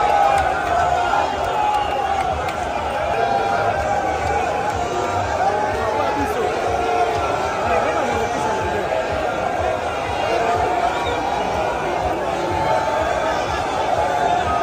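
A huge crowd gathers at a political rally in Congo, a dense continuous roar of many voices and general hubbub, loud and unbroken from start to finish.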